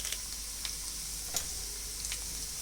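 Red chilli flakes and cumin seeds sizzling in hot oil, a steady bright hiss with a few faint clicks of stirring, close but quiet and with no voices.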